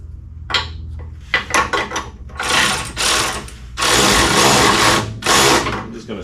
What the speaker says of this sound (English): Let me get my ratchet. It's electric.